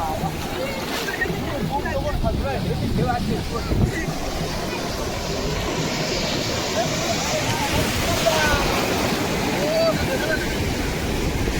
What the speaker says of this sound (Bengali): এই বড় ঢেউ, বড় ঢেউ।